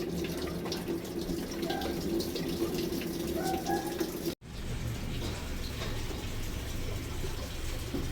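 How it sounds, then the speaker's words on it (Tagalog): Tap water runs steadily into a Panasonic washing machine showing a U11 error, a continuous loud rushing flow that briefly cuts out and then resumes. "Pabukasan ng gripo, sir."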